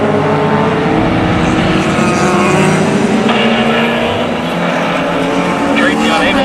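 A Camaro race car in a closed-wheel race at Mission Raceway roars loudly and close, its engine note sweeping as it chases other cars, with a commentator's voice running over it.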